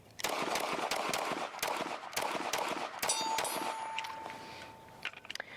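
Rapid close gunshots from a Springfield Hellcat Pro Comp compensated pistol ring out in a quick string of sharp cracks, loud and evenly spaced, followed by a short pause and a few more shots near the end.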